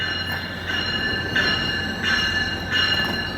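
Short six-car passenger train rolling through Union Station, a steady metallic rumble with high squealing wheel tones that swell at regular intervals as cars pass over joints, loud and constant with no talk.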